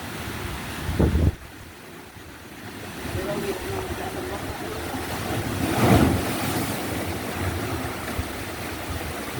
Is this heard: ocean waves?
yes